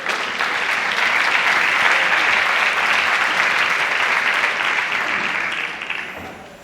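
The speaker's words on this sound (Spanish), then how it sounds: "Un fuerte aplauso" Loud, sustained applause from a conference audience at a forum on ageing and housing alternatives, steady dense clapping that fades slightly at the end, with no talk over it.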